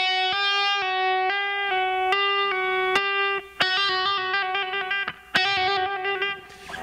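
A clean electric guitar note repeats while a second note is hammered on and pulled off above it, rolling into quicker, brighter fluttering runs toward the end.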